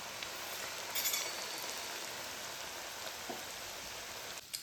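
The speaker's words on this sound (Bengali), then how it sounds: "হালকা আঁচে এবার বলগুলোকে ভেজে নেব" Bread pakora balls frying in oil on low heat, a faint, steady crackling sizzle that holds evenly throughout with a few small pops.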